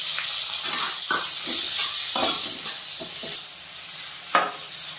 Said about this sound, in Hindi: सबसे पहले डालेंगे ऑनियन।